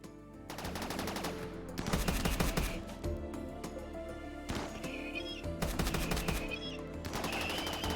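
Bursts of rapid gunfire with armor-piercing rounds in Rimworld, several loud rattling volleys separated by short pauses, with some higher pinging impacts mixed in.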